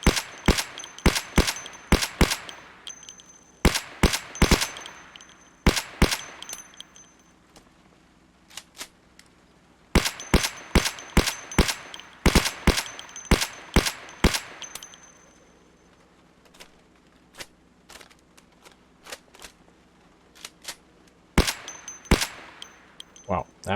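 Gunfire from a firearm in the zombie survival video game Project Zomboid, bursts of sharp loud shots in rapid clusters separated by short pauses, repeating several times across the clip.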